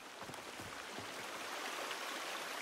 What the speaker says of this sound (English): So here we have some water